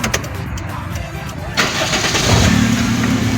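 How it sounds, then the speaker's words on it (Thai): A 1997 Toyota Soluna sedan engine cranks and catches about midway, then settles into a smooth, steady idle nearby, with faint voices before it starts. "สตาร์ทนิ่งๆนะครับ ผมเครื่องเดินนิ่งๆ เลยนะครับ"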